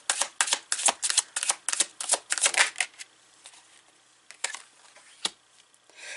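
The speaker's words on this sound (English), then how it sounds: "I'm going to pull some more cards." A tarot deck shuffled in a rapid series of crisp, bright card flicks, then slowing to a few scattered snaps and soft slides as cards are drawn, all close and in a quiet room.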